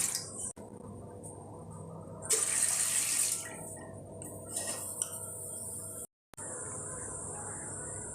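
Water running from a tap or being poured into a vessel in a home kitchen while preparing ulundu kali, a steady trickle with brief louder bursts and a short gap near the end.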